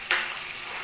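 Fish pieces frying in hot oil for fish manchurian give a steady, close sizzle, with a brief louder burst at the start before settling into an even hiss.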